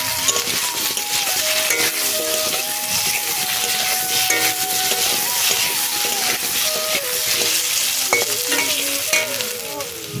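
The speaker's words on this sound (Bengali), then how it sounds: "এবার আলুগুলো লাল লাল করে ভেজে নেব।" Potatoes fry in hot oil in a wok with a steady loud sizzle and hiss, along with occasional scraping and stirring clatter close up, continuous throughout.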